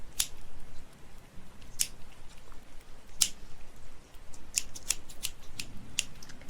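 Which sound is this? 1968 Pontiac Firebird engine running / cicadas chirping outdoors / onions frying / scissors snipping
scissors snipping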